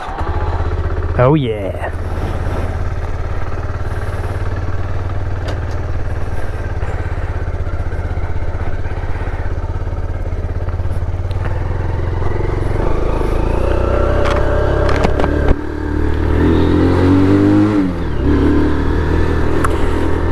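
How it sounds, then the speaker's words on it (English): Kawasaki Z125 motorcycle engine starting and then idling steadily with a few throttle blips toward the end, close by, with someone speaking briefly over it. "let's see if the Z125 starts."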